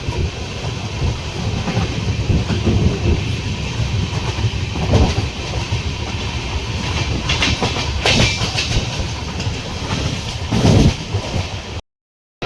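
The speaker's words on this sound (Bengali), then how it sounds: "মধ্যপ্রদেশের প্রথম রেল স্টেশন পার করছি।" Chambal Express passenger train running on rails in Madhya Pradesh, a loud steady rumble with rhythmic clickety-clack of wheels over rail joints, passing through a station, with no talking, ending abruptly in silence.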